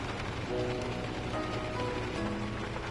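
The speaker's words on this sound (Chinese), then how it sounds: "现在外面已经升级为暴雨了，哗啦啦啦的响，让你们感受一下深山里下大暴雨的压迫感。" A heavy mountain rainstorm at night, heard from inside a sleeper vehicle at 4,500 metres altitude, makes a dense, constant roar that fills the whole moment without pause.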